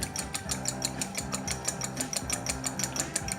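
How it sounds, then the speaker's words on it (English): An egg being whisked by hand in a bowl: rapid, steady rhythmic clicking and scraping strokes, repeating several times per second at close range, with no talking. "we got the egg. I'm gonna whisk it well."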